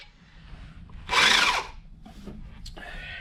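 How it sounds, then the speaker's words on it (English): A corded jigsaw starts up briefly for cutting 2x4 lumber, giving a single loud burst of high whirring motor buzz for about half a second before cutting off, close by in an otherwise quiet room. "grab my jigsaw, and I'll plug that in"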